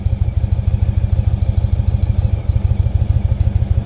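A 2016 Indian Chieftain motorcycle engine running close by with a steady, low, pulsing idle throb that holds even throughout, with no voices over it.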